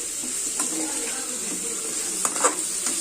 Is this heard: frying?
yes